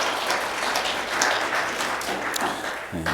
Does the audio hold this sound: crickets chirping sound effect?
no